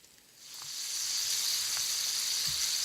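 Meat patties sizzle in a hot frying pan over a portable eco-fire burner outdoors, a steady close hiss that swells within the first second and holds, with no talk.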